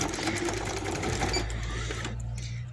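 A sewing machine runs a steady, close, rapid stitching whir while sewing a second line of a sleeve seam at a half-inch margin, then slows and stops near the end.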